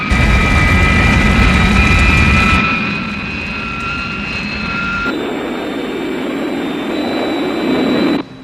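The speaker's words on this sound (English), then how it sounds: "Virgil, you're crashing. Pull her up" Loud jet-like roar of the Thunderbird 2 aircraft engines as the craft goes down in a crash, dropping abruptly to a quieter sustained whine and hum partway through; no voices.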